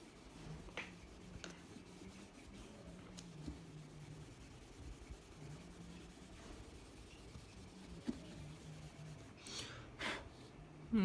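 A pen scratches and rubs steadily across paper while lecture notes on basic thermodynamics are written out, a faint, continuous close-up scribble with occasional soft taps and no talk.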